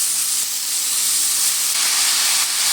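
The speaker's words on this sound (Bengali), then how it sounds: "এবার আমি এর মধ্যে দিয়ে দেব পালং শাক।" Spinach hits hot oil with fried garlic and onion for a Bengali palong shak bhorta, giving a loud, steady hiss and sizzle that lasts without a break from start to finish, with no voices.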